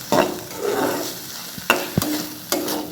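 Baingan bharta with onion sautés in a pan, a steady sizzle with a few spatula scrapes and stirs against the metal, close and clear.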